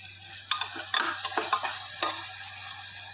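Cashew paste going into a sizzling masala in a pan, with a spatula stirring it. A soft hiss sits under a few quick scraping strokes over about three seconds, all close by and with no talk.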